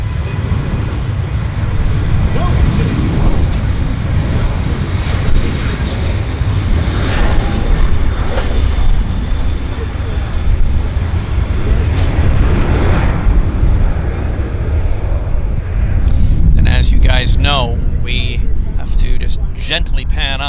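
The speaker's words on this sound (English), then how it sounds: "Our first jet departure of the show." A WestJet jet airliner roars down the runway on its takeoff roll at Vancouver Airport, a loud, sustained engine rumble, while a voice talks over it near the end.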